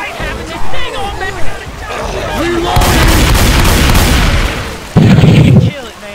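A gas tank blows up in the zombie shooter Left 4 Dead 2, a loud burst of broadband noise that roars on for a couple of seconds amid gunfire, thuds and players chattering over voice chat, with another heavy thump near the end.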